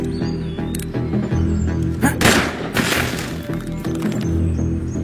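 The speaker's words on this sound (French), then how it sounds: "Arrêtez de tirer, Gennaro!" Gunshots ring out in a tense standoff, with a couple of sharp broadband cracks near the middle set against a steady background, loud and close.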